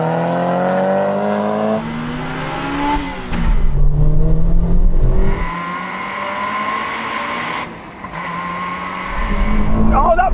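A Honda S2000 engine screams during a drag race, rising through loud close revs with sharp drops at gear changes and rising again, over road and wind roar, while a person talks over it.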